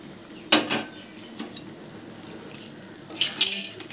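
Pieces of fish, khoyra hilsa, drop into a pan of vine greens simmering in broth, with two sharp clattering bursts of utensil against the pan over a soft, low sizzle.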